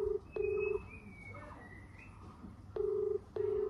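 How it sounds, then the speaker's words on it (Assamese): A phone ringback tone sounds during a prank call, with short steady beeps returning in pairs at regular intervals. Faint high chirps drift between them over a low background hum. "তাক মই এতিয়া আকৌ এবাৰ ফোন কৰিম"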